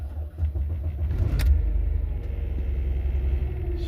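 A 2004 Mercedes E320 engine turns over and runs, a steady low rumble holding close and even throughout with a brief higher whine near the start.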